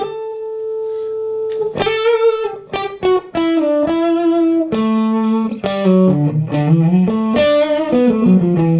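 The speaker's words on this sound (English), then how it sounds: "this is just a straightforward distortion, and Andy Timmer's distortion pedal" Electric guitar played through Andy Timmer's distortion pedal, a run of sustained, harmonically rich distorted notes and short phrases ringing out loud and close, with no voices.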